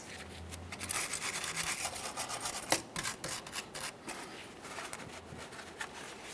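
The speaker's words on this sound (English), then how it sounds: "I'm using a wire brush for this." A wire brush scrubs the rear upper control arm mounting point on a 2007-2017 Jeep Patriot, a continuous close raspy scraping with rhythmic back-and-forth strokes and no speech.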